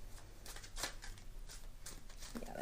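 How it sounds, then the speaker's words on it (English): Tarot cards being shuffled by hand, soft papery riffles and slaps in quick irregular bursts, close and fairly quiet with no talking. "maybe I'm just not so swell at shuffling"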